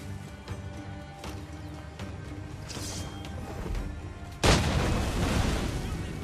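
Powder keg blowing up in the pirate video game Assassin's Creed 4 Black Flag: a loud sudden blast with a broad roaring tail, after a stretch of busy game noise with scattered thuds and gunfire-like cracks.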